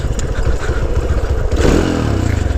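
A Honda C90 motorcycle ridden off-road on a green lane, its small engine putting out a close, steady puttering drone with rattling and clatter from the rough ground.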